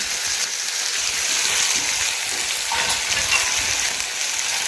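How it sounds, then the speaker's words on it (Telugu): Bitter gourd masala cooks in hot oil with a steady, dense sizzling and crackling that stays close and constant throughout, with no talking. "ఒక పది నిమిషాలు ఏంటంటే మనం ఆయిల్లోనే ఉడకాలి అది"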